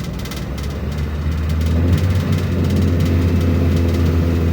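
An automatic scooter engine with a faulty, unresponsive throttle revs steadily at about 3000 RPM, a sustained, close, loud mechanical drone with a low rumble that holds nearly constant throughout.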